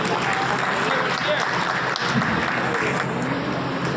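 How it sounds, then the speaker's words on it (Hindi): A crowd claps steadily throughout at an award ceremony in Pilkhva, a dense, loud and continuous wash of applause with a voice briefly audible over it. "ताली बजाइए"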